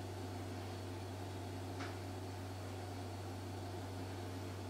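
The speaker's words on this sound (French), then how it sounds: "Je suis désolée pour le bruit, c'est mon frigo." A home refrigerator hums steadily in a kitchen under renovation, a constant low drone with faint broadband hiss, alone and unchanging throughout.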